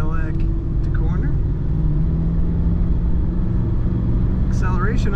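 A 1989 Cadillac Brougham sedan accelerates, its engine giving a steady, loud low rumble throughout with a faint rising tone near the end.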